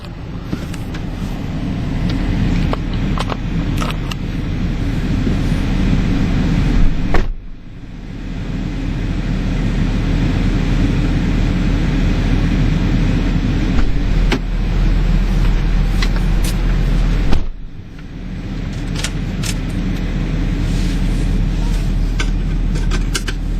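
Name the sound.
2011 Ford F250 Super Duty King Ranch driving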